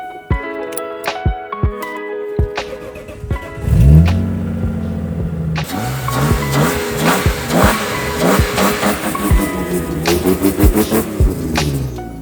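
A BMW E30 car engine cranks, catches and starts, then runs roughly with repeated revs, loud and close.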